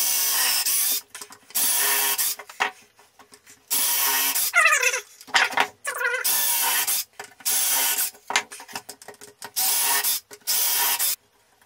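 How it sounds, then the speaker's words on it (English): A drill fitted with a countersink bit whirs in repeated short bursts, about seven close, loud runs separated by brief pauses and clicks as screws are driven to reinforce a wooden clamp rack. "I already got the drill out here with a countersink bit"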